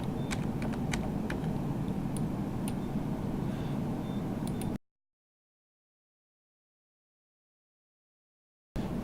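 Keystrokes on a computer keyboard as a part number is entered into inventory stock setup software, a run of quick, light taps over a steady background hum, then the sound cuts out to silence near the end.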